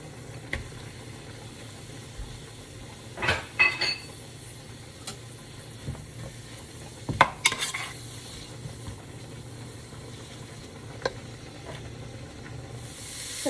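Collard greens sautéing in a pot for minestrone soup, with a soft steady sizzle and a few scraping stirs of a spoon against the pot, the clatter louder around the middle, with no talking.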